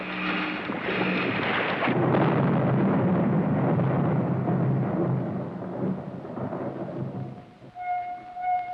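A bomb thrown overboard from a submarine detonates in a loud, booming explosion that rumbles on heavily for several seconds before fading into a lower roar, with faint tones at the end.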